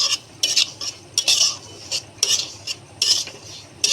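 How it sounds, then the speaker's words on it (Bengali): Semolina frying in ghee in a karahi while being stirred, a metal spoon scraping the pan in repeated bursts of gritty clatter about twice a second, close and fairly loud with no voices. "এবার আমরা সুজিগুলো 1-2 মিনিট ভেজে নেব।"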